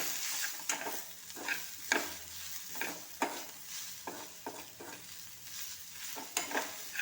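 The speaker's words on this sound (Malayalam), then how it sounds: "ഇത് നല്ലപോലെ ഉള്ളിയായിട്ടൊന്ന് മൂപ്പിച്ചെടുക്കണം ഇപ്പോഴും നമുക്ക് ഉപ്പിട്ട് കൊടുക്കാം ആവശ്യമായ വീണ്ടും ഇളക്കി കൊടുക്കാം" Onions fry in an oiled pan as a spoon stirs them in repeated rhythmic scraping strokes over a low, steady sizzle, close and fairly quiet, with no speech.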